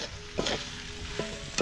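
Laing, Filipino taro leaves in coconut milk, fries in a pan with a steady sizzle while a utensil scrapes and stirs it in a few short strokes, close up.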